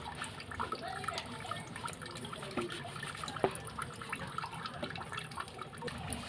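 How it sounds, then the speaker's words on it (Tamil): Water splashes and trickles steadily, close by, as brass vessels are washed with a cleaning liquid, with one sharper knock of metal partway through. "இது வந்து ஒரு லிக்விடு போட்டு வாஷ் பண்ணுறது"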